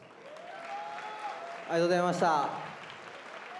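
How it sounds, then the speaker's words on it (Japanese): An arena crowd at a kickboxing event applauds after a fight, the clapping rising and continuing beneath someone speaking a brief thank-you over the sound system. "皆様今一度盛大な拍手をお送りください"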